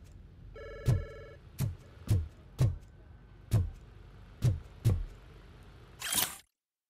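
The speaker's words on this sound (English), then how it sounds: "Phone call." Repeated telephone ring tone in the video game RoboCop Rogue City, a short electronic ring heard early among a series of sharp clicking taps spaced unevenly, ending with a burst of noise before silence.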